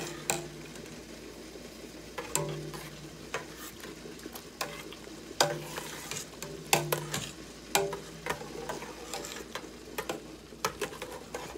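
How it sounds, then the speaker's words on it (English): Pomegranate jelly stirred vigorously in a pot, giving irregular spoon scrapes and knocks against the pot's sides over a low bubbling hiss, with no talking. "I'm getting a little wild with my stirring here."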